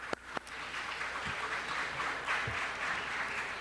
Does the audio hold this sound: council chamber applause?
yes